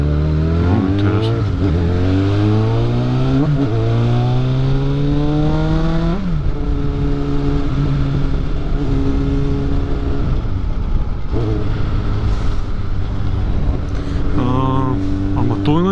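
Motorcycle ridden on a road over a short commute, the engine loud and close, revving up through several gear changes with rising and falling pitch, then cruising steadily with wind rumble; speech is faintly mixed in.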